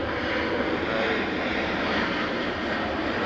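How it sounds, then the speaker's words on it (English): A Delta Boeing 757 arriving from San Juan, Puerto Rico at Atlanta airport at night sends a steady, loud broadband engine roar that holds evenly throughout with no voices. "In the foreground, you saw a Delta 757 coming in from San Juan, Puerto Rico"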